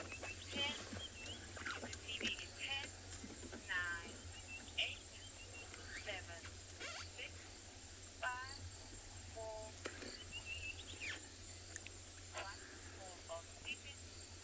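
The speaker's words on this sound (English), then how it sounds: "And the crickets are becoming a little bit louder." Crickets chirp at dusk on an African safari, a continuous high shrill drone that carries through the whole stretch, with scattered faint bird calls in the background.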